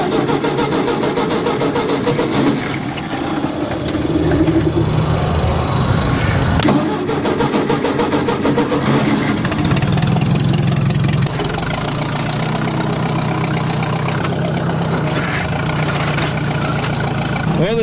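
A Willys Jeep engine cranks and catches, then runs at a rough, steady idle with a low rumble, loud and close throughout, the pitch shifting slightly as it settles.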